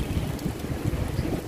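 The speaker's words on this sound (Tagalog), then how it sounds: "Kasang hangin, no?" Strong wind buffets the microphone in a continuous low rumble, loud and steady with gusty fluctuations, no voices.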